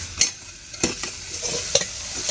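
Potato and bitter gourd fry in a pan over a wood-fired stove, a soft steady sizzle broken by several sharp scraping clacks of a spatula stirring, close by and with no talk.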